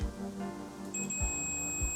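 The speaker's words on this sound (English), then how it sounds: "If the multimeter beeps when we press the button" A multimeter's thin, steady high-pitched continuity beep starts partway through and holds continuously over a low background hum, while testing a Logitech G903 mouse clicker.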